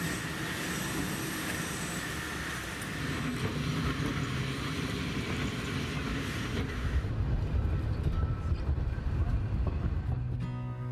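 The Snaefell Mountain Railway train on the Isle of Man runs with a steady, loud rumble and rattle of wheels and carriages that grows heavier toward the end.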